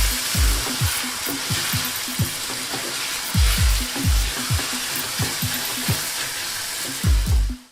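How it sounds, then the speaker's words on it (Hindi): Cumin powder and other spices with lemon juice sauté in a pan for matar qeema, a loud close sizzle broken by repeated rhythmic stirring strokes. "साथ ही 2 नींबू का रस शामिल करके थोड़ा भून लेंगे ताकि ये मसाले अच्छी तरह इन्फ्यूज हो जाएं।"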